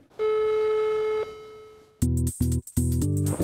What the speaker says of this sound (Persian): صدای تلفن میاد